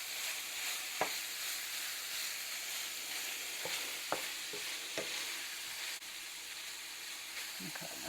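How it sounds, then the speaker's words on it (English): Food for stuffed peppers frying in a pan, a steady close sizzle and hiss with occasional scraping taps from stirring, under faint background voice. "I'm going to keep stirring it for a minute"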